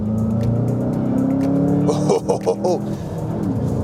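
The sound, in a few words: 2020 Volkswagen Jetta GLI accelerating at full throttle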